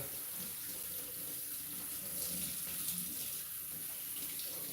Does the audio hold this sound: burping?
no